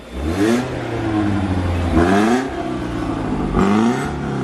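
A BMW 318ti engine revving up three times in quick bursts, each rise in pitch falling back to a rough idle, loud and close.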